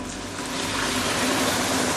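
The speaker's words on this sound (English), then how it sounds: "Now I'm going to add in some hot water." Hot water poured into a pan of minced pork and tofu stew on high heat, a steady broadband gushing and splashing close by that stays even for the whole two seconds, with no talking.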